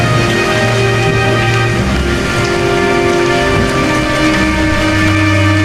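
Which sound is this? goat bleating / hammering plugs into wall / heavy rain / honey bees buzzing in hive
heavy rain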